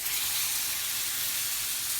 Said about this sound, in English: So I'm gonna put the steak on.